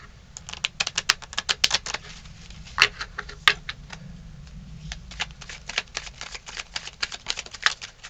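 Tarot cards being shuffled for a reading, a steady run of crisp riffling snaps and soft flutters, close and fairly quiet, with no talking over them.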